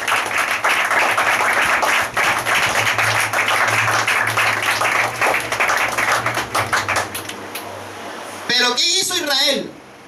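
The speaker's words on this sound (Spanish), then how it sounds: "Dele fuerte el aplauso." Church congregation applauding loudly, brisk clapping with some rhythmic beats filling the sanctuary for about eight seconds before cutting off as a preacher's voice comes in.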